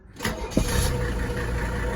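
A 1985 Mercedes 300TD diesel engine cranks briefly and catches, settling at once into a steady, close idle rumble.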